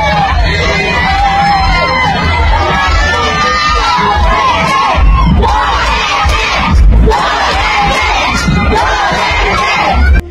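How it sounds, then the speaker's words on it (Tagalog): Campaign supporters shout and cheer in a loud, dense crowd, with whoops and high voices rising over a constant roar of chatter for the whole stretch. "nangangampanya pa habang hiyawan ang mga supporters niya."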